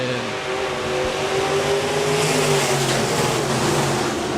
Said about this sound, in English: Left turn, foot on the gas. Let's go racing.